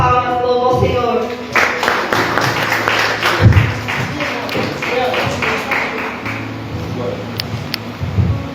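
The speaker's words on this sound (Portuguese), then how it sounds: "as palmas louvam ao Senhor" Clapping from a church congregation after a sermon, a busy broadband patter of many hands that runs under a preacher's voice and swells and fades over several seconds.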